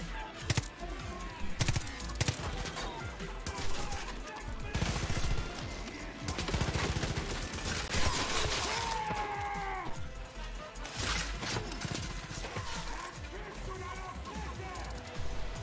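Gunfire from a weapon in the video game Far Cry New Dawn: repeated sharp shots and bursts spread across the clip, fairly close, mixed under someone talking in German.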